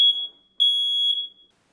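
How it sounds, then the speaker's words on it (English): A smoke alarm being tested emits three sharp, high-pitched beeps, the second long and sustained, close and piercing, then stops. "Press to test. This is only a test. The alarm will sound. The alarm is loud."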